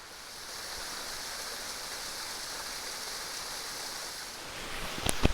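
A constant rushing roar of a double waterfall in Alabama fills the air, steady and broadband, with a few brief knocks near the end.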